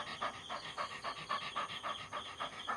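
A dog pants rapidly and steadily close to the microphone, a quick rhythmic string of breathy huffs with no other sounds.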